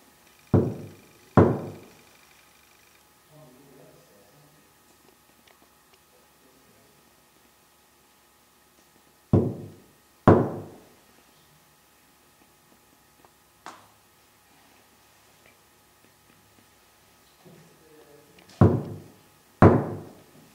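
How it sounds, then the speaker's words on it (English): Knocking on a door during a haunted-location investigation, heard as three separate pairs of sharp, loud raps spaced several seconds apart, with quiet stretches and faint murmuring between them. "Just give it a knock, Jack, to see if we get a reply."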